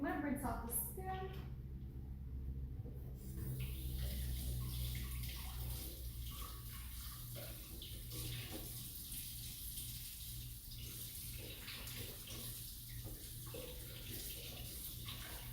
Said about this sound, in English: I'm gonna rinse off the spoon.